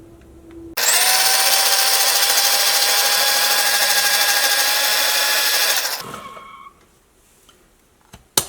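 A kitchen mixer grinder runs at low speed blending homemade mayonnaise ingredients, starting abruptly into a loud steady whine for about five seconds before cutting off and spinning down, followed by a few clicks.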